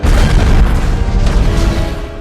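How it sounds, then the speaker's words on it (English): A deep, heavy explosion rumbles through a scene in The Avengers film, set off by Hawkeye, with dense low-end boom sustained loudly across about two seconds and no speech. "right at that moment, Hawkeye triggers the explosion"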